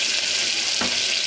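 Onions frying in oil in a pan make a steady close sizzle with a brief stirring scrape near the end.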